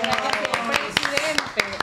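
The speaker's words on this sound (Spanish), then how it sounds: "aplauso" Brief burst of studio audience applause welcoming a guest on a Dominican cultural television program, with sharp scattered claps overlapping a host's voice.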